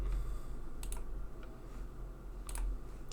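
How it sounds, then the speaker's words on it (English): Something drops onto a computer keyboard, giving a couple of sharp plastic clatters, then another brief pair of clicks a moment later over a low background hum. "Something fell on my keyboard."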